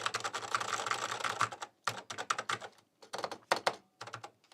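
Close-up key clatter from an old Mac keyboard, typed in several rapid bursts with short silent gaps between them, crisp and fairly quiet.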